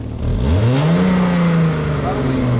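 A car engine with a burnt-through exhaust runs steadily up close, a loud rough drone with a rising then held pitch that rumbles throughout.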